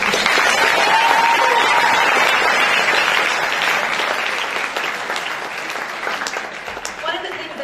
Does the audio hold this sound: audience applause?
yes